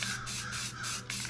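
Short repeated bursts from a spray paint can laying down dark navy blue, several quick hissing spritzes with brief gaps between them, loud and close.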